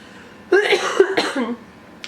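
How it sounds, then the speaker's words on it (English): A close, rough cough in a couple of raspy bursts, with a hoarse, strained tone, then quiet. "And there's the cough."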